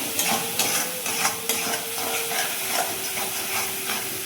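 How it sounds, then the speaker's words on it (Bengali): Spicy masala for a Bengali prawn curry fries in a wok, a loud continuous sizzle and hiss with regular scraping strokes of a spatula stirring the paste, close up and with no talking. "এবার আমি ভালো করে সমস্ত মশলাটি আবারও কষি"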